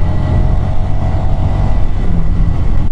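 Motorcycle ridden on a UK road, a loud continuous engine drone with steady low rumble and wind noise throughout, close up with no pauses.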